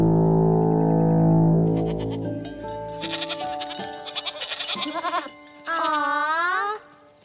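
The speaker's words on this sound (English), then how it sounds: "I better call my goats home." Cartoon goats bleat as they are called home, following a long sustained horn-like tone, with a run of quick wavering bleats and a final drawn-out bleat, loud and close.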